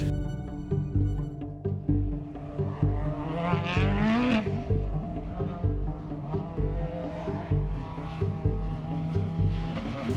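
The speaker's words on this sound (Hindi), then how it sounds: "जब कार पास आती है तो उसके इंजन की आवाज बढ़ती है।" A noisy car passes along a straight road, its engine hum swelling loud and close near the middle before easing away, with a steady roar throughout.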